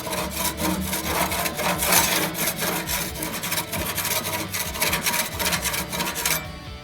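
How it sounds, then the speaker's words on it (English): A grill scraped clean after cooking Jamaican jerk pork skewers, giving a loud, continuous rasping scrape in quick repeated strokes that stops abruptly near the end, with no talking. "Keep the grill clean."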